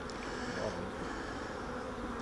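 Honeybees in a crowded apiary hive give a steady, dense buzz, close and continuous throughout.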